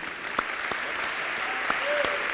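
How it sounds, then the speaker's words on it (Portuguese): A church congregation claps steadily in dense, continuous applause, with a few sharper claps and faint whistles standing out. "Vamos receber o pastor com aplauso ao Senhor?"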